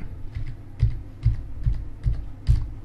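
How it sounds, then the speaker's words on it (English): Typing a password on a Windows computer keyboard: about seven distinct key presses, close and clear, spaced in a steady, slightly uneven rhythm over a faint hum. "So let me type my password."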